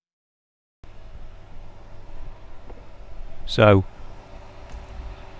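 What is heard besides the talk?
electric fan in background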